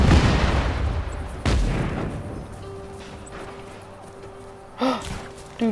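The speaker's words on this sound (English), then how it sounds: "Good guys don't look at explosions." Explosions go off as two sharp booming blasts close by, each fading into a decaying rumble, followed by brief gasping vocal sounds.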